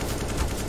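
A quick, dense burst of AK-47 fire from Counter-Strike: Global Offensive, fairly faint and lasting under a second with no talking.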